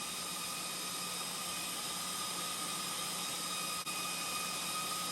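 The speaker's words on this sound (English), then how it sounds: "Fan is still running." The cooling fan of an Orcair PCP portable air pump runs after the pump has shut off, a loud steady whirring hum with a brief dip partway through.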